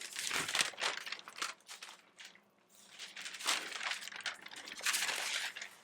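Parchment paper crinkles and rustles on a heat press over DTF-printed fabric, several close bursts of crumpling separated by a short quiet gap.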